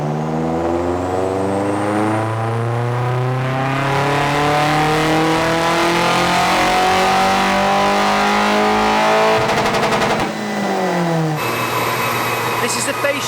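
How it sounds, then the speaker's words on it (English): A cheap Mk2 Toyota Yaris SR 1.8 with a budget turbo conversion revs hard on a dyno, its rough harmonic engine note climbing steadily for about ten seconds before hitting the rev limiter and settling into a ragged idle. "Prepare yourselves for the worst sounding dyno run you've ever heard."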